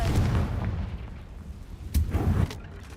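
Fiery Confringo spell blasts in the Hogwarts Legacy video game, two dull booming bursts about two seconds apart over a low rumbling background, no talking.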